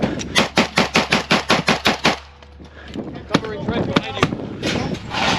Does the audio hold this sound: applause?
no